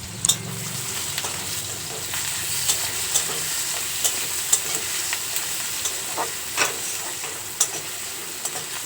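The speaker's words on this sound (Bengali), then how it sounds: "কেটে রাখা পেঁয়াজগুলো তেলের মধ্যে দিয়ে পেঁয়াজগুলো সামান্য ভেজে নেব" Chopped onions fry in hot oil with a steady, close sizzle, broken by soft stirring scrapes and light ticks throughout.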